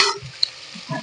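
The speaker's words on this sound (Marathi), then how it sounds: "आता कांदा चांगला परतून घ्यायचा आहे. त्याच्यामध्ये आपल्याला कढीपत्ता पण टाकून घ्यायचा आहे लगेच." Onions and curry leaves sautéing in a hot pan for Maharashtrian masale bhat, a close, soft sizzle with brief stirring scrapes and a single sharp clink partway through.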